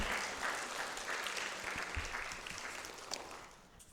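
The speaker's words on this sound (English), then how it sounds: "Let's do a little round of applause for all our new members" A church congregation applauds new members in a steady, dense round of clapping that fills the room and holds at a moderate distance before slowly tapering off.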